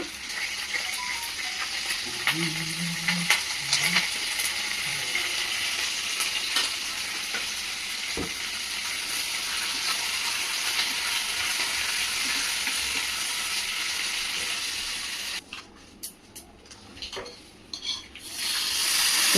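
Mustard seeds, urad dal and cumin frying in hot oil for a tempering, giving a steady close sizzle with light stirring scrapes throughout and a few crackles, then fading near the end.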